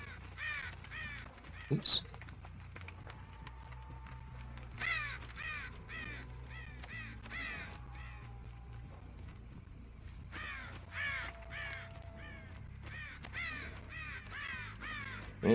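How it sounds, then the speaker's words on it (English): Repeated crow caws from the Dead by Daylight game, loud and recurring in bursts throughout, over a steady low ambient background, with a brief exclamation from a player. "Hey, shut up, crows."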